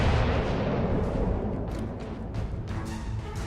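Battleship guns fire in the video game World of Warships Legends, giving a heavy, rumbling boom that slowly fades, with a few sharper pops in the tail.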